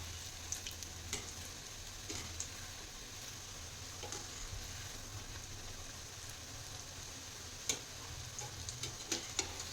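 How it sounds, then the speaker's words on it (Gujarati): Kathiawadi coriander and green onion bhajiya fry in hot oil with a soft, continuous bubbling sizzle, broken by light clicks and taps as the fritters are flipped. The sound is fairly quiet and there is no talk. "હવે આપણે ભજીયાને પલટાવી નાખીએ."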